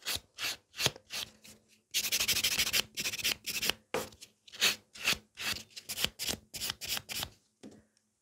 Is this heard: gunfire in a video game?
no